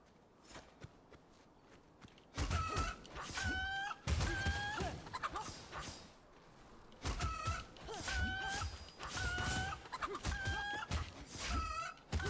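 Chicken in the video game Absolum clucking in loud, repeated bursts of squawks mixed with game sounds and thumping steps, coming in several waves across the stretch.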